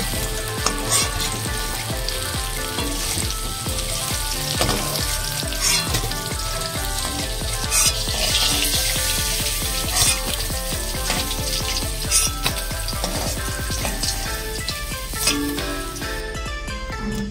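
Hilsa fish pieces sizzle steadily as they fry lightly in mustard oil, with a continuous crackle running throughout and rhythmic music playing in the background.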